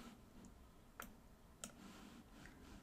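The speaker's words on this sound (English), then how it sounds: "Click on the first page" Two sharp computer mouse clicks, about half a second apart, sound close and crisp over a faint steady room hum while someone works in Google Docs.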